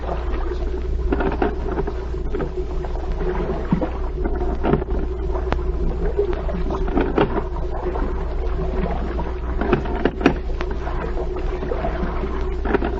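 A rowboat moving on water at night, with a steady low rumble, soft lapping and wind noise throughout, no voices.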